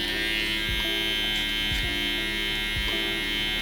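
Electric hair clipper without a guard, used straight on a mid taper haircut, gives a steady close buzz throughout, with a few brief low knocks as it moves against the head.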